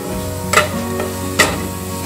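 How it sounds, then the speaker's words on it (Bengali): Grated carrot frying in ghee, a continuous close sizzle broken by two sharp stirring clatters of a spatula against the pan. "গাজরটাকে ভালো মতন কিন্তু ভেজে নেওয়া হচ্ছে।"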